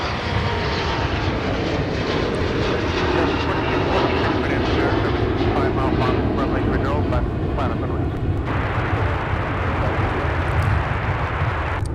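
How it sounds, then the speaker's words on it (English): A Sun Country airliner arriving at Minneapolis–Saint Paul airport gives a loud, sustained engine roar and rumble that stays strong throughout, with a shift in tone near the end. "We're going to stay with the arrival here from Camp Springs,"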